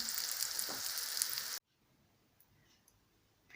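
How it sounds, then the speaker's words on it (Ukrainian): Loud, crackling sizzle of oat flake patties frying in a hot pan, then it cuts off abruptly into near silence with a few faint clicks. "Потім не забудьте обернути знову і смажити до золотистого кольору."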